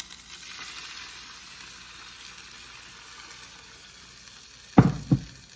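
Mushroom risotto sizzles steadily in a pan, a constant close hiss, until liquid is poured in near the end, bringing a couple of louder splashing bursts.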